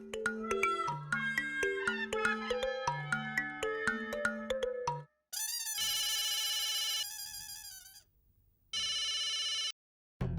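A telephone rings, first with a quick melodic ringtone tune for several seconds, then with harsh, buzzy electronic ring bursts separated by short silences, with no talking.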